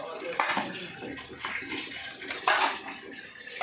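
Fish pieces rubbed with lemon and salt being washed under running water, with splashing bursts of water and handling noises close up, the flow rising and falling in uneven spurts.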